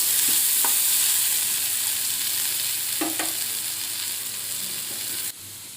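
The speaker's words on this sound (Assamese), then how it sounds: "মই এইখিনি ঢাকোন লগাই কম জুইত অলপ টাইম ভাজি ল'লোঁ" Paneer fries in a covered pan on low heat, a steady soft hiss throughout, with a few brief scraping clicks partway through before it drops slightly near the end.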